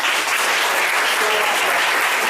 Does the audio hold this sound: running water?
no